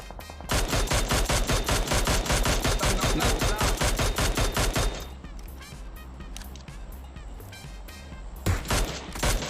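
Rapid automatic gunfire in the video game PUBG Mobile, a long, loud, evenly paced burst of shots that stops abruptly, followed by quieter ambience and a single later shot.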